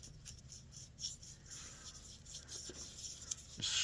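A rag scrubs shellac finish onto a wood-turned decorative dish on a lathe, making a quiet, continuous rubbing and rasping with a few light knocks toward the end.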